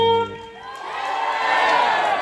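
A crowd from Boasum at a parish anniversary reception cheers and shouts when greeted, a loud swell of mixed voices and whoops rising after a brief voice at the start.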